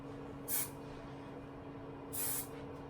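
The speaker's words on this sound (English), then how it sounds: "you are just going to spray it a few times" Hairspray hisses from a can onto a curly updo in two short bursts, close and fairly soft, separated by a pause over a quiet steady room hum.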